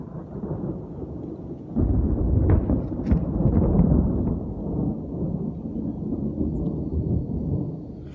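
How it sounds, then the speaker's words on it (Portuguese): A thunderstorm with heavy rain pours down on a rural farm plot in Ilhéus, a steady dense roar with a louder surge partway through and faint crackles of thunder, close and continuous with no talking. "Tá aqui o maior chuvão."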